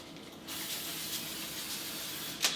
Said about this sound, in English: I'm using spray oil.